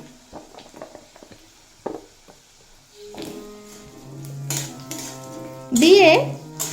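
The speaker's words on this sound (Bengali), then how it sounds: "দেড় থেকে দুই মিনিট মতো ভেজে নেব" Onions and potatoes fry in a pan for a Bengali cabbage curry, with soft sizzling, clinks of a utensil against the pan and a louder burst of stirring near the end.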